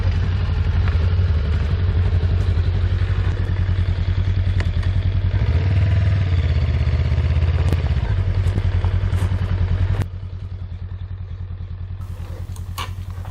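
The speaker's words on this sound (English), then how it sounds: "First ride on the Honda CBR500." Honda CBR500R motorcycle engine running steadily close by, a continuous mid-pitched drone that drops abruptly in level as the bike pulls away, with no talking.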